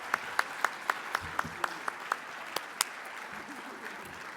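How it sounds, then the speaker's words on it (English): A conference audience applauds presenters at a Métis self-governance gathering, with a few distinct, evenly spaced claps standing out over a softer crowd clapping bed that thins toward the end. "could we have one more round of applause for the presenters here today?"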